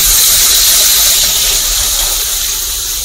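Ground mustard paste dropped into hot oil with nigella seeds, sizzling loudly and steadily as a bright, continuous hiss with no talk.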